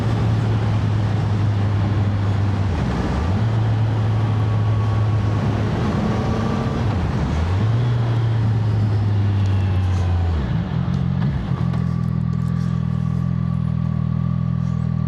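A CF Moto 675 SR-R sport motorcycle rides slowly, its engine a steady low hum with several brief dips and rises in pitch as the throttle eases off and comes back on, with constant wind rush over the whole stretch.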